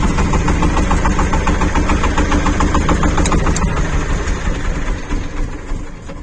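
A Shifeng 244 tractor engine running steadily at idle nearby, a loud, continuous rhythmic diesel clatter that carries on throughout with no voices.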